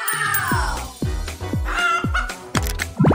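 A Play-Doh chicken in the Garten of BanBan video game clucks in a steady run of about half a dozen loud, close clucks spaced roughly half a second apart, over a busy game background.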